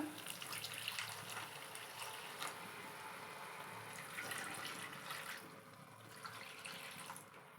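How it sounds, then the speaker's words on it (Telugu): Tamarind juice poured into a simmering Warangal-style fish curry with oil floating on top, giving a steady, continuous splashing pour of liquid that runs for several seconds at moderate loudness with no voices. "ఇలా ఆయిల్ అంతా పైకి తేలుతున్నప్పుడు చింతపు చింతపులుసు పోసుకోండి ఇలా"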